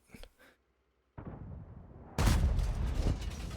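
A WZ-114 tank gun firing in World of Tanks, a sudden heavy blast that rises into a loud rumbling boom and sustained roar after a quieter lead-in, heard close with no talking.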